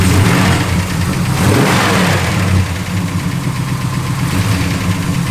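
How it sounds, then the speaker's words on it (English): 1965 Plymouth Sport Fury V8 with a mild cam, revving loudly and close up, the engine rising then settling back toward a lumpy idle. "Good sound. Nice little cam to it."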